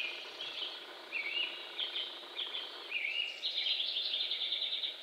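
Early-morning birdsong in Canada around 5 am, with high chirps and warbling phrases repeating in short bursts and growing denser toward the end, moderately loud with no voices.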